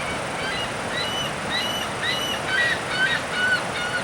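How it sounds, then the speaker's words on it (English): Repeated high, squealing seagull calls ring out over a steady roar of rushing water at Niagara Falls, several cries spaced a second or so apart, moderately distant. "That's a seagull making a racket."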